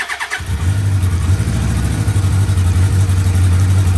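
A 1984 Kawasaki KZ1100 LTD motorcycle engine cranks briefly, catches right away and settles into a loud, steady idle close by, with no talking.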